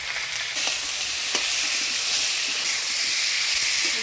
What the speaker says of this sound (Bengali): লবণ দিয়ে লাউ ডোগা আলু বেগুন ভালো করে নাড়াচাড়া করে নিলাম